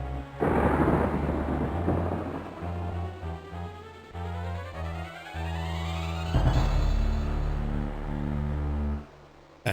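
A wizard's conjured thunderstorm over Castle Daventry in King's Quest V crashes with loud thunder and hissing rain, sweeping rising tones and swells over steady low music, then cuts off abruptly near the end without speech.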